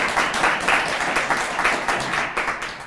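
A crowd claps and applauds steadily, the clapping swelling in uneven waves and continuing throughout.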